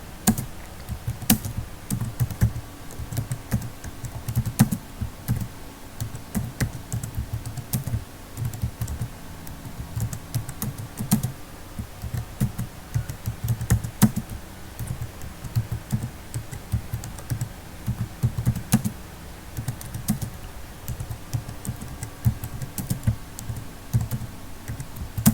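Someone types a business tagline on a computer keyboard, a steady, close patter of key presses running for about twenty-five seconds with brief pauses and no voices.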